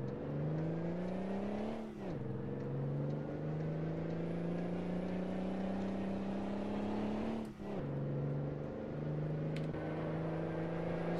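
A Mack truck engine in American Truck Simulator pulls away in low gear, a loud, steady drone that rises in pitch as it revs, dropping twice at gear changes before climbing again.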